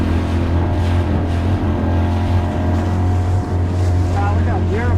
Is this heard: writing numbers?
no